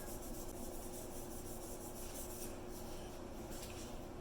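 A pen being sanded with 1000 grit sandpaper makes a steady, continuous close rubbing rasp with no pauses.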